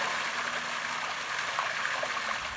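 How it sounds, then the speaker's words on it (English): A steady, even rush of falling water from a peaceful waterfall, continuous broadband flow with no pauses, fairly loud and close. "And peaceful, refreshing waterfalls."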